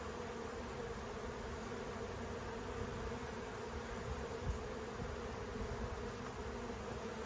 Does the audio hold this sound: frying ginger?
no